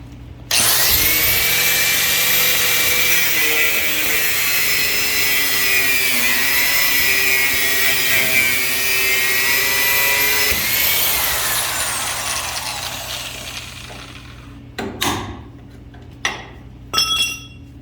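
A power tool cuts off old steel suspension strut brackets on a 1940s car, a loud continuous high-pitched grinding whine that holds steady, then winds down and gives way to a few brief clanks near the end.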